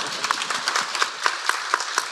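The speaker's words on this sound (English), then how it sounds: "please clap for her" Audience applause for a legislator's chief of staff at a legislative symposium, a modest patter of claps with sharper individual claps rising at a steady pace throughout.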